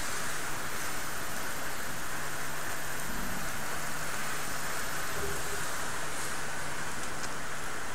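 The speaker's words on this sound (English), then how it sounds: "I need to go close my windows because it's raining." Steady rain falls outside, a constant broadband hiss with a faint low hum beneath it and no talking.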